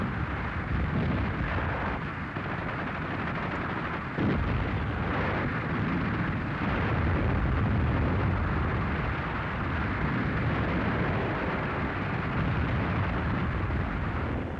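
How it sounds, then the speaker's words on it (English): Constant US artillery gun barrage on the Western Front in World War II Germany, a dense continuous rumble of distant firing and blasts with a sharper burst around four seconds, steady and loud throughout with no voices. "To the soldiers of the 1st American Army, under a constant gun barrage, foxholes are home"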